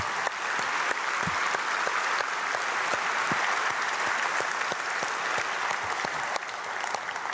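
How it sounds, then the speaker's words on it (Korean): Congregation applauding in a Korean church during an early-morning prayer service, a steady wash of many hands clapping evenly throughout with no talk. "우리 사랑하는 자녀들 크게 박수로 축복하겠습니다"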